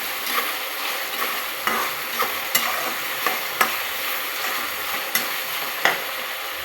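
Sliced onion with a bay leaf and a pinch of salt frying in hot oil, a constant crackling sizzle broken by sharp spatula clicks and scrapes at irregular intervals, close up with no talking.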